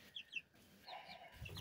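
Young chicks, feathering out, chirp and cluck in a few short, close bursts from a brooder before being taken to a yard, with a soft thump near the end.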